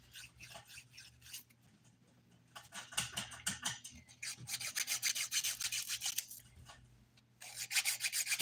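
A nail file rasps across hardened dip powder nails in bursts of quick scratchy strokes, close and soft, with short pauses between.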